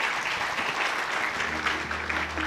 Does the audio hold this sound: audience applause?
yes